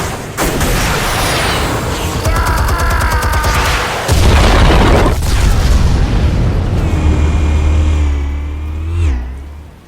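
Film sound effect of explosives detonating: loud, heavy booms and rumbling blasts follow one another with crackling debris, then a metallic whine fades out at the end.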